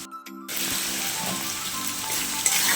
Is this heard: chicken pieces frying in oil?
yes